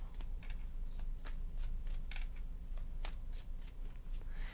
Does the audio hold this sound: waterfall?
no